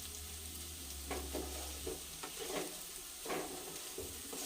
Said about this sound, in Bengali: দেখো পেঁয়াজটা আমার ভাজা হয়ে গেছে